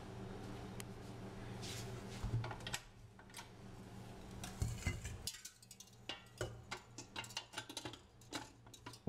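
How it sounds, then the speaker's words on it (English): Eggs whisked in a bowl for a chocolate buttercream, a quick steady ticking of the whisk against the bowl, close and fairly quiet, growing sharper and more rhythmic toward the end. "we're gonna start whisking the eggs"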